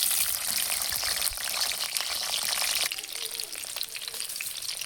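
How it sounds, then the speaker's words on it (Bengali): Pointed gourd (potol) slices sizzle and crackle steadily in hot oil for a potol chingri, a dense close frying hiss that shifts briefly as the pieces settle, with no talking. "এই যে আমি পটলগুলো এবারে দিয়ে দিচ্ছি। আমার তেল গরম হয়ে গেছে"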